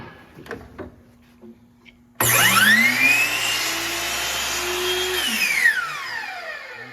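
A miter saw trims one side of a wooden board, its motor whining up abruptly to a loud sustained spin, holding steady for several seconds, then winding down, with a few quiet knocks beforehand.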